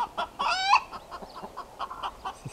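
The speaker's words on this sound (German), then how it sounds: "Es ist aufgeregt, dieses Krähen." Chickens cluck in quick, agitated bursts close by at an outdoor breakfast spot in the Algarve, Portugal, with one harsher, drawn-out crowing call in the middle.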